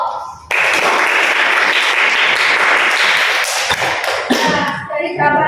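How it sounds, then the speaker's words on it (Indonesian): Classroom applause from a group of students, a dense burst of clapping that starts abruptly and holds steady for several seconds before thinning out near the end. "Silakan berikan aplaus."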